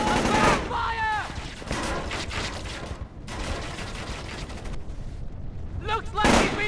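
Bursts of gunfire crack through a firefight in Splinter Cell: Chaos Theory, with repeated loud shots and rattling volleys across the clip. Shouting voices break in between the shots.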